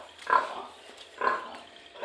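Pigs on a farm give two separate grunts, each a short moderately loud burst with quiet pauses between, at close range with no talking.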